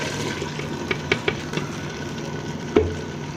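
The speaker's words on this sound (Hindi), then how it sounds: "अच्छी तरह हिला लें इसको" A spoon stirs a spiced yogurt and gram flour mixture in a pot for kadhi, giving a few soft scrapes and wet clicks over a steady low background hiss.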